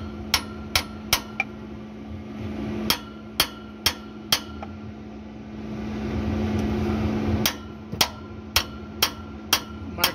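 A hammer strikes truck turbine parts in a workshop while prisoner studs are removed from the turbine base. Sharp metallic blows come in quick bursts, with a hissing steady stretch between them and more rhythmic strikes after it.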